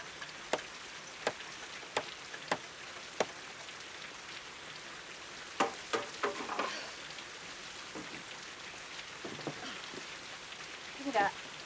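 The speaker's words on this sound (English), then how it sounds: "It's raining on top of the roof." Rain patters on a roof, a steady hiss of drops punctuated by sharper ticks and taps at irregular intervals, with a voice briefly talking near the end.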